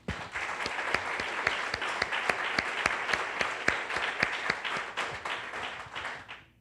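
A church congregation bursts into applause, a dense run of claps with sharp individual hand strikes standing out, steady for several seconds before tapering off.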